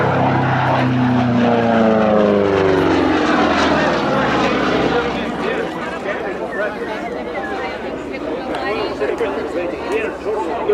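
A Republic P-47 Thunderbolt propeller fighter passes at the EAA AirVenture air show, its engine drone falling in pitch as it sweeps by, then fading into a broad roar, with people talking over it.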